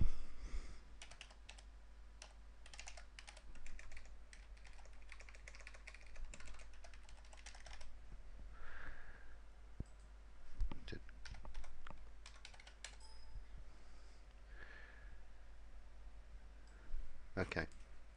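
Computer keyboard typing clicks in quick irregular bursts, faint and close, with pauses between runs and occasional speech in the quiet room.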